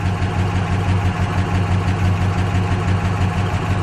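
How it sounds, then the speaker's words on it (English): A 1964 Chrysler 300K engine idles steadily at close range, a low, even rumble with a faint rhythmic lope and no talking over it. "That's the idle I want to have."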